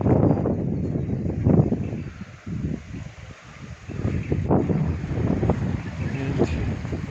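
Strong wind blows across a rocky beach at Rocky Point, a steady roaring gust that buffets the microphone for the whole stretch and swells and eases slightly.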